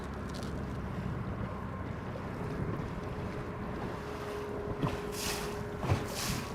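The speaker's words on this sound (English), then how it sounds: "that is water smashing the side" Wind-driven water slaps against the hull of a bass fishing boat, a steady rushing wash with a few sharper splashes near the end, heard close under buffeting wind noise.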